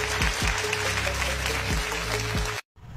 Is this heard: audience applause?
yes